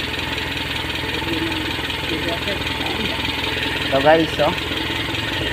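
An engine idles steadily and close throughout, a continuous even drone with a faint knocking texture, while someone briefly speaks over it near the end.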